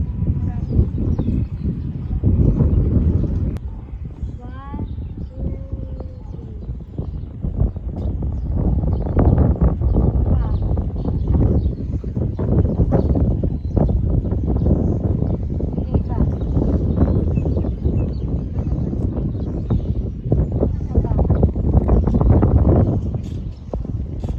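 Strong gusty wind buffets the microphone outdoors at a Taiwan flower market, a heavy low rumble running continuously under people talking nearby.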